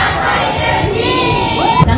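Guests at a 70th birthday celebration clap and shout together in a loud, dense burst of cheering voices, close and sustained throughout.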